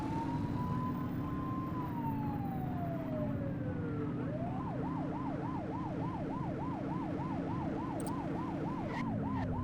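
Police car siren in The Precinct video game, a long wailing sweep that slides down and then switches to a fast yelping warble, steady and moderately loud over a low engine hum.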